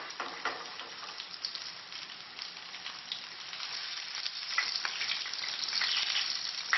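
Potato fritters fry in a pan with a steady, dense sizzle and crackle that swells a little louder toward the end, no voices over it.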